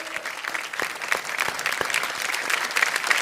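Audience applause rings out on a televised Indian talent show, a dense, steady clatter of many clapping hands filling the whole stretch without a break.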